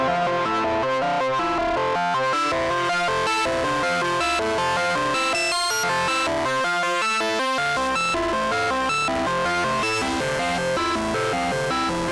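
An Elta Solar 42F ambient drone synthesizer plays dense, heavily distorted sustained, gritty tones with rhythmic pulsing, loud and continuous throughout without any voices.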